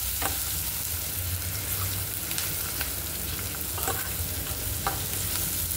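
Onion frying in a pan over a gas flame, a steady close sizzle with occasional stirring scrapes and clicks against the pan, no voices.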